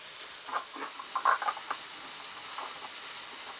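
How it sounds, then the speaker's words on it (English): Chicken fries in a pan at an off-grid cabin, a faint, steady sizzle with a few brief crackles and pops in an otherwise quiet room. "The chicken is almost done frying."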